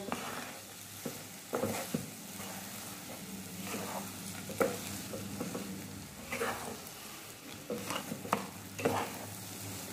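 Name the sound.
stirring semolina sheera in a pan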